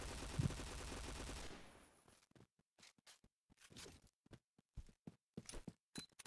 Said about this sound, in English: I thought someone was shooting.